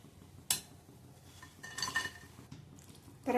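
Fried onion bhaji being lifted out of oil into a dish, with close, faint clinks and scrapes of a metal utensil against cookware and a louder rattle at the end.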